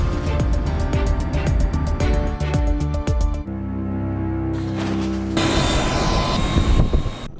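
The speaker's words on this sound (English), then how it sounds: "Lifting off at sunset, thousands of feet above Tucson." Airplane taking off at sunset over Tucson, a loud, steady engine roar heard from the cockpit with a fluttering, rhythmic drone that shifts abruptly in tone partway through.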